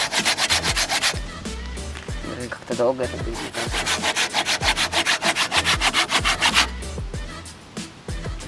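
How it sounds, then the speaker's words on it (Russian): Hand saw cutting through wood outdoors on a shore, steady rapid back-and-forth strokes, loud and close, with a brief pause near the middle and a few quiet spoken words. "Ну что, достаю свою пилу и погнали"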